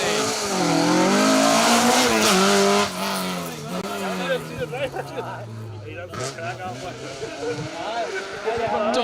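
A Toyota Corolla rally car passes on a stage of a live rally event, its engine loud and droning, then falling in pitch as it goes by, with a commentator talking over the sound.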